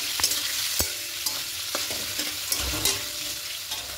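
Paneer pieces fry lightly in hot oil in a home kitchen, with a soft steady sizzle broken by sharp clinks and scrapes of a spatula stirring the pan, close and moderately quiet.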